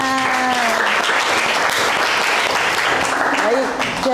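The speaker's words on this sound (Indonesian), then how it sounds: "Oke, kita beri tepuk tangan." A class applauding after a student presentation in a lesson, loud, close clapping from many hands over a few seconds, with a voice and a tonal whistle-like sound at the start and voices under the applause.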